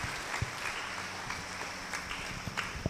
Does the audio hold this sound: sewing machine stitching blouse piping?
no